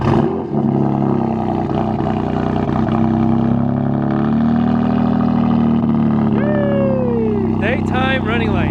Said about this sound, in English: Let us turn on the car so you guys can see what it's like when it's running.